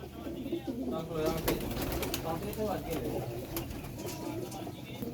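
Low, throaty cooing of several pigeons of various breeds at a pigeon seller's, continuous and close, with someone talking over it and occasional rustles.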